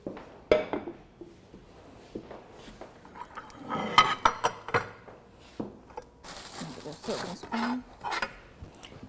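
A ceramic tagine pot is fetched and handled in a kitchen, with scattered clinks, knocks and scraping of crockery and utensils, some louder clatters, alongside intermittent talking.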